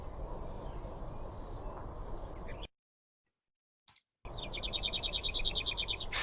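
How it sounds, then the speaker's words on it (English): A lesser whitethroat in Ireland gives its song: a few quiet high notes, a short gap of near silence, then a fast, even, dry rattle of repeated high ticks over low background noise. "the lesser white-throat is a very predictable rattling sound"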